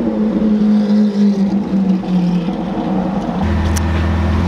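A Lamborghini Aventador and a straight-piped Superleggera rumble and rev side by side, droning loudly up close, then a deeper, heavier blast joins near the end, with no talking over it.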